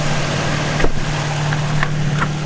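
A Nissan 350Z engine fitted with a 370Z exhaust Y-pipe idles steadily close by, a low even rumble with a few faint clicks and ticks.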